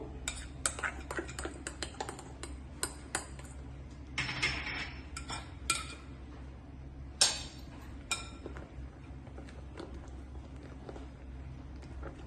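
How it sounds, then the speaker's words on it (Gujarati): Spoon clinking against a bowl while food colouring is stirred into a mixture for a bread roll dessert, with scattered close taps and clinks over a steady low background hum. "હવે સારી રીતે એને હલાવી લઈશું."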